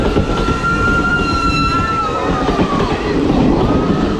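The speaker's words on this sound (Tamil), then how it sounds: "பேசஞ்சர் ட்ரெயின் எப்படி இருக்குன்றத பாருங்க" A passenger train rolls past close by in a loud, steady rumble of wheels and carriages, with faint high squeals drifting over it and a few voices shouting in the background.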